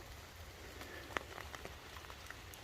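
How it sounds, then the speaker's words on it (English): Steady rain falls on a wooded Connecticut hiking trail with a corduroy log section, a constant soft hiss of drops with occasional sharper close splashes. "This rain that we're having today, which is relentless, is a little bit too much for this corduroy section"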